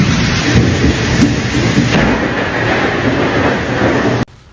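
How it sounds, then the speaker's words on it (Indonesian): A heavy thunderstorm in Bali roars loud and steady, dense rolling thunder and pouring rain filling the scene without pause before cutting off abruptly near the end; no one speaks. "There's currently a storm in Bali and I've never heard anything like it in my life."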